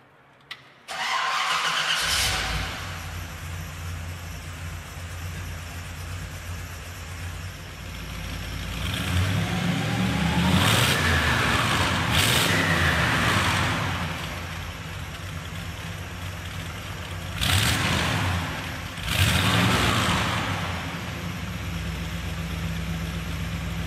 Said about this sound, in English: it runs and drives as you would expect, with a ferocious wallop of torque and a rumbling idle